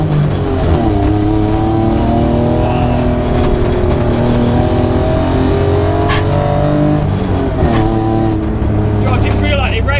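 A BMW E36 323i competition drift car engine revving hard and climbing through the gears, loud and close, with voices talking underneath.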